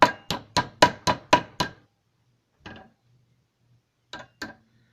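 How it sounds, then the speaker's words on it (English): Seven quick metallic hammer taps in a steady rhythm, then a pause, a single tap, and two more spaced taps on a small silverplate spoon being shaped into a ring. "give it a little hammer"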